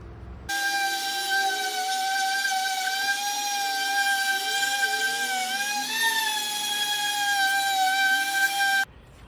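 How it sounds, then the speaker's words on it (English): An orbital sander on pallet wood hums with a steady, tonal whine, starting abruptly and running evenly before stopping. "Then we'll do a little more orbital sanding on here."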